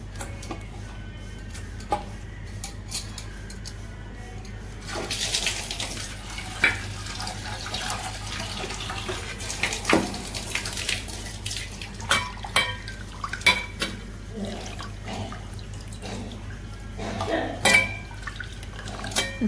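Prawns washed by hand in a pot of water: close sloshing, dripping and splashes with occasional clinks against the pot, irregular bursts over a steady background, no talking.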